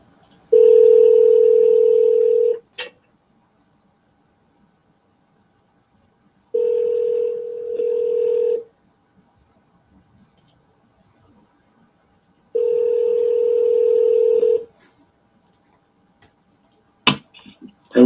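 A telephone dial tone sounds in three separate steady bursts of about two seconds each, clean and close, with short clicks and near silence between them before a phone call.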